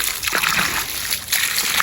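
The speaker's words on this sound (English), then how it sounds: "once you put the water in it, then it will soak straight to the root" Water poured into a hole dug down to the root of a container garden plant, a steady splashing, sloshing trickle that runs close and fairly loud for the whole stretch with no talk.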